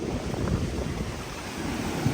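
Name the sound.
big waves crashing on Legian beach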